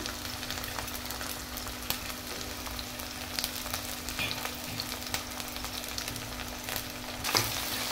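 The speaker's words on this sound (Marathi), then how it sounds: "अद्रक आणि लसूण पेस्ट, खडे मसाले थोडेसे टाकते" Ginger-garlic paste and whole spices frying in a pan give a steady, moderately loud sizzle with occasional stirring scrapes, ending in a brief clatter near the close.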